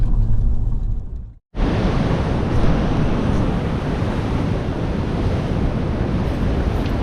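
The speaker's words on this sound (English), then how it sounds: "the ocean's raging" Heavy surf pounds a Northern Beaches shoreline with rough, raging seas, a dense continuous roar of crashing waves mixed with wind buffeting the microphone, loud and steady after a brief dropout near the start.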